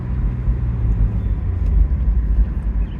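An Acura Legend on a test drive after a hydraulic clutch system rebuild, heard as a steady low road rumble and engine drone from inside the car, with no talk.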